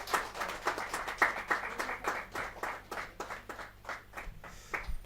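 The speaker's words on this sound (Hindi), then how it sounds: "जोर तालियां बजाते रहो भाई।" A small audience at a poetry gathering claps in fairly rhythmic, distinct strokes, a few hands close by with a quiet background hum, no voices.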